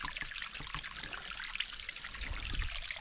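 Spring water trickling out of basalt rock in the Sahyadri hills, a steady light dribbling and splashing that runs on alone without pause.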